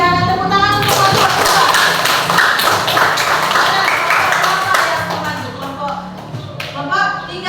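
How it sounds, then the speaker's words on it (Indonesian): A classroom applauds a student group during a lesson on artificial intelligence, with bursts of close hand claps and tapping mixed with shuffling and children's voices, fading briefly before rising again. "ada tepuk tangan untuk kelompok"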